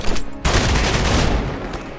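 Rapid automatic SMG gunfire from the video game Marvel's Midnight Suns, a dense loud burst that kicks in sharply after a brief opening shot and keeps rattling for nearly two seconds.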